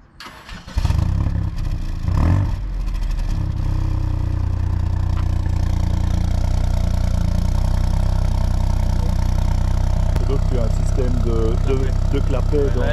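Ford Fiesta ST hatchback fires up with a sharp starter crank and rev flare, then settles into a loud, steady idle with a rumbling exhaust and its exhaust flap; people talk briefly near the start.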